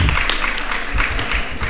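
A brief burst of audience applause at an antakshari singing contest, dense and fairly loud clapping throughout with some voices mixed in.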